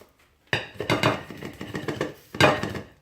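Small frying pan handled in a home kitchen while cooking oat flake galettes: sharp metallic clatters and knocks in a quick cluster, a softer scraping run, then another bright clank, close and moderately loud.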